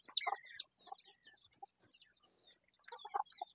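Chicks clucking and peeping while being fed in separated groups on a small farm, with bright chirps and short clucks in quick irregular bursts, close and fairly clear.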